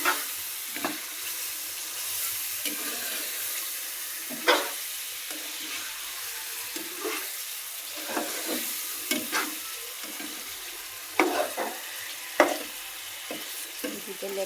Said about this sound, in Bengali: এখন আমি মাংসটা ভালো করে একসাথে মিশিয়ে নেব মশলাগুলোর সাথে।